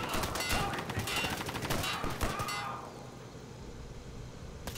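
Dense bursts of automatic gunfire from a first-person shooter game, Insurgency, rattle loud and close for a few seconds and then break off.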